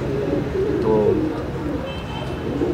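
Pigeons in a pigeon loft, with soft low cooing repeated a few times against a steady background murmur, close by and fairly loud.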